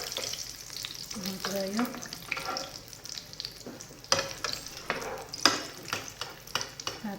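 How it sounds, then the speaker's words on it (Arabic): Bourek pastry frying in hot oil gives a continuous crackling sizzle with occasional louder pops and light clatter near the pan, while a voice speaks briefly. "ديروا الزيت تسخن، وكي تسخن لكم مليح نقصوا لها باش نرميوه هكذايا"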